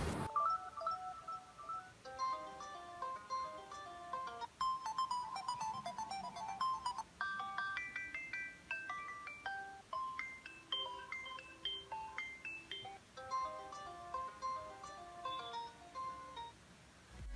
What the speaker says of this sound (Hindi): चलिए अब टेस्ट कर लेते हैं फ़ोन के रिंगर को।